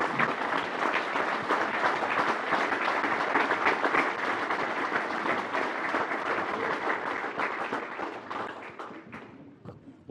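An audience applauds steadily to welcome an award recipient at an acceptance ceremony, a full, even wash of clapping that holds for several seconds before thinning and fading out.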